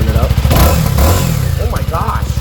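A 2022 CF Moto 300SS single-cylinder motorcycle engine revs close by, with a throbbing thumper beat that climbs and falls in pitch through a couple of throttle blips.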